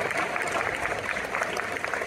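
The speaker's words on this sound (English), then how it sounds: "give him a round of applause" Audience at a documentary film celebration applauding the film's editor: dense, steady clapping from a sizable crowd filling the room throughout.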